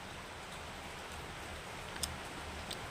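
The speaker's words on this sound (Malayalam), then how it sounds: "നല്ല മഴയുണ്ട് കേട്ടോ" Steady rain falls outdoors in an even, soft hiss of drops on surfaces, with a couple of faint isolated ticks and no talking.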